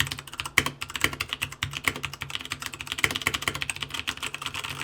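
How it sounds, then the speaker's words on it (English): Rapid, steady clacking of brown mechanical switches on a Royal Kludge RK61 60% keyboard being typed on, close up, with no voices. "Let's get a sound test."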